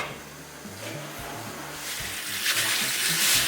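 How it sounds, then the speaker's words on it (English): Water runs steadily from a tap while lentils and rice are rinsed for Moroccan harira soup, a continuous close splashing that grows slightly louder toward the end. "rinses the lentils and the rice and sets them aside"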